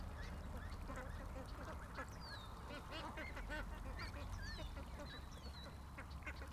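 Ducks quacking in a yard at night, a flock calling repeatedly at a distance over a steady low background rumble, with occasional faint human voices.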